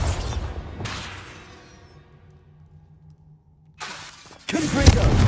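A Bombarda blasting spell in Hogwarts Legacy goes off as sharp shattering bursts: one at the start, another about a second in with a decaying rumble, then loud crashing blasts from about 3.8 seconds to the end.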